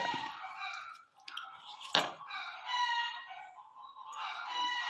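A rooster crows nearby among several clucking chickens, loud harmonic calls overlapping with a sharp click partway through; no one talks.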